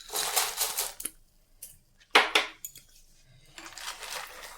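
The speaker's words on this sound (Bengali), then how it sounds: "এবার আমি বাদামটা দিয়ে দিচ্ছি।" Peanuts are dropped into a pan of melted jaggery in a few quick bursts, rattling and clattering against the metal with short pauses between, close by and without talk.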